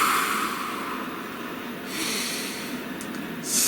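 A single deep breath, a long steady airy inhale followed by a softer release, close and alone in a quiet room.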